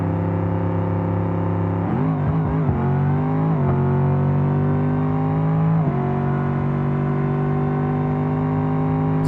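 A tuned Gavril Burnside running a 310-shot of nitrous roars through a drag pass in BeamNG, its engine loud and close with a steady high drone that rises through gear changes.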